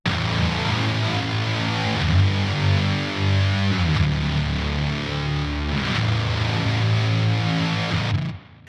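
Heavily distorted, double-tracked electric guitar riff through a glitch preset with stuttering effects, thick and layered, playing continuously before cutting off abruptly at the end.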